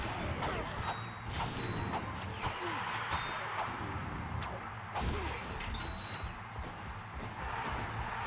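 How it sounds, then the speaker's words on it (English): Repeated wrench melee strikes in the Ratchet & Clank: Going Commando video game, metallic clanking hits and mechanical whacks over a dense, busy game soundtrack of effects and music, steady and loud throughout. "Favorite weapon only. Wrench, wrench, wrench."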